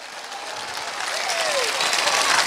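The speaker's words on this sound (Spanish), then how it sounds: "Démosle un aplauso al Señor." Church congregation clapping in praise during a sermon, applause swelling gradually and growing louder, with voices calling out faintly within it.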